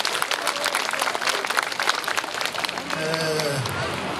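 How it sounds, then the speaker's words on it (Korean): Audience applause at a 2017 veterans' festival ceremony in Busan, a steady dense clatter of many hands lasting the whole stretch, with a voice briefly rising over it near the end. "우리 민병원 부산지방 보험청장님께도 박수 한번 쳐주시죠."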